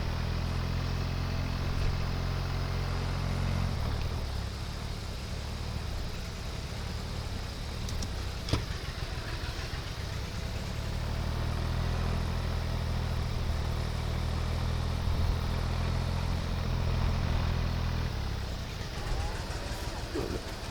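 A tractor engine idles nearby in a steady low rumble through the whole stretch, its pitch shifting slightly at times, with faint handling noises and a person speaking at moments.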